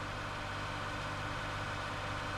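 A tractor engine drones steadily in Farming Simulator 19, a constant low, labouring hum as the underpowered machine strains, with no talk over it.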